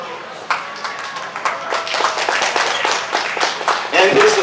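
An audience at the Cleveland Asian Festival claps steadily for a co-founder welcomed to the stage, a dense patter of hand claps that builds toward the end, with a voice speaking over it.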